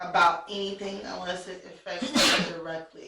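A person sneezes sharply near the microphone toward the end, while another voice is talking just before it.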